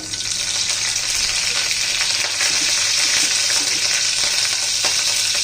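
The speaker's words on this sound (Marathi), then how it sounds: "त्यामध्ये थोडी मोहरी घालूया कढीपत्ता घालू" Mustard seeds and curry leaves crackle and sizzle in hot oil for a tempering, a steady loud frying hiss with scattered pops, no voices.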